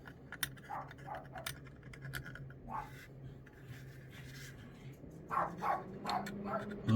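A small dog with a big attitude barks in a few short, faint bursts in the distance, under soft indoor clicks and tapping of model building.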